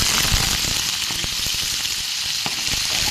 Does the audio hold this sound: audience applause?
no